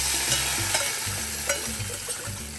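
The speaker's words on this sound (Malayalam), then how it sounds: "കടുക് പൊട്ടിച്ചത് ഇതിലേക്ക് ഒഴിക്കുന്നേ" Ghee with popped mustard seeds, fenugreek and green chillies poured into a Kerala mango curry, giving a loud, steady sizzle with short bubbling bursts throughout.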